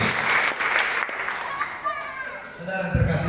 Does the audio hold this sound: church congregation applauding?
yes